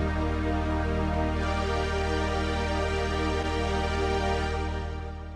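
An electronic keyboard with MCS Plus stacks a second hand of chords over the original three notes, giving a thick, sustained harmonic wall that holds steady and then fades slightly at the end, with no talking.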